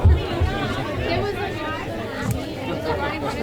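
A crowd at an Australian rules football match in Sydney murmurs in a steady, close babble of many voices, while a commentator talks over it.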